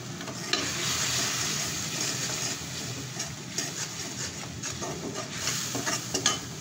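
A spice paste (masala) is fried in a pan, with a dense, steady sizzle under quick stirring scrapes and a few light spatula knocks, close and fairly loud.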